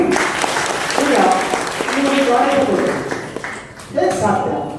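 At a live science demonstration show, an audience gives a steady wash of applause while a voice talks over it throughout, with the clapping swelling again near the end.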